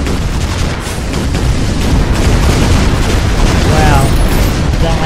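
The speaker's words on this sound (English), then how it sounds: "126 damage from that firework." Firework weapon blasts rumble in Shellshock Live, a dense, loud, continuous barrage of booming explosions with crackling bursts and a faint whistle near the end.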